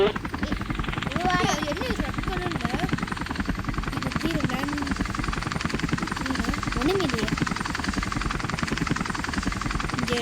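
A helicopter's rotor chops in a steady rapid rhythm throughout a police chase video game, with voices talking over it.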